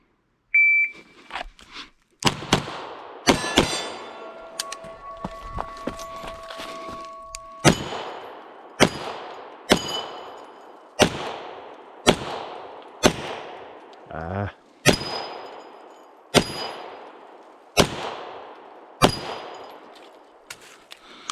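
Handgun shots fired in pairs at targets during a concealed carry drill, about a dozen sharp loud cracks spaced roughly a second apart, each ringing off briefly, with a steady electronic tone in the background early on.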